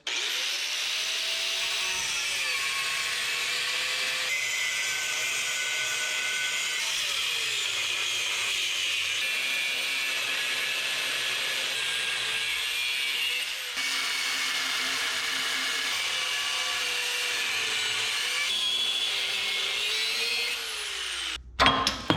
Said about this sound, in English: I'd say I did a pretty good job of getting cut through all those welds all the way